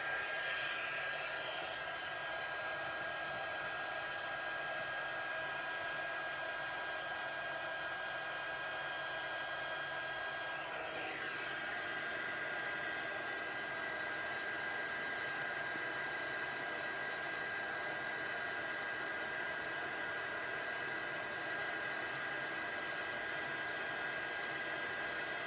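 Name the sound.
embossing heat tool blowing hot air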